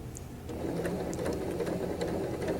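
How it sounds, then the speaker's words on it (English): A sewing machine stitches fabric around an inside curve, running as a steady, close, even whir of rapid needle strokes with no voices. "I'm going to continue my stitch around the inside curve."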